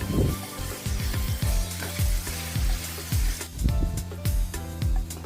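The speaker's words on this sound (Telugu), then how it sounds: "ఈ టమాటో చక్కగా మగ్గే వరకు దీంట్లో ఫ్రై చేసేసుకుందాం" Four chopped tomatoes frying in a pan for an egg and drumstick curry with dry prawns, a close sizzle broken by rhythmic stirring scrapes, with music playing throughout.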